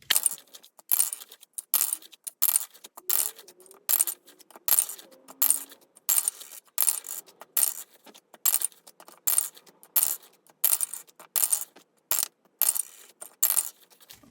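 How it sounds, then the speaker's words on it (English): Dice rattle and clatter in a rapid rhythmic shaking, bright and close, repeating in steady bursts for the whole stretch with no talking. "As I mix them, the dice is going to tell us which of these challenges is gonna get 2 bills"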